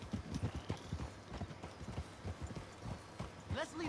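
Horses' hooves clop in uneven rhythm in Red Dead Redemption 2, close and moderately loud, with a brief whinny near the end and voices talking over them.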